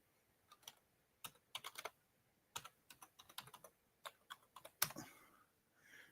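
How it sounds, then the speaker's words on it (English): Bursts of typing on a computer keyboard, close and fairly quiet, with irregular clusters of keystrokes separated by short pauses and a slightly heavier clack near the end; no voices. "I'm typing it in there for you right now."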